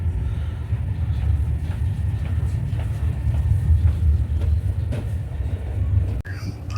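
Inside a Chinese bullet train pulling away from the station, a low, steady rumble hums continuously, with a faint click near the end.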